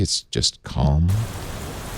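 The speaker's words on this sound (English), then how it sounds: "Let's listen to some Rain in the City" City rain ambience from a relaxation app: a steady broadband wash of rainfall with distant urban hiss, beginning after a man's brief speech and continuing alone at moderate level.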